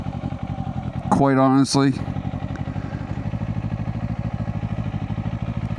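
A motorcycle engine rumbles steadily at a moderate pace while being ridden, a continuous low drone heard under a brief stretch of someone talking.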